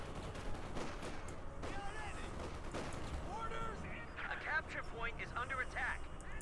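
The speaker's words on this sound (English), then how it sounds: "Cluster bombs raining down here." Dense battle din from Company of Heroes 2, a World War II strategy game, with cluster bombs and rattling gunfire crackling steadily beneath a continuous commentator voice.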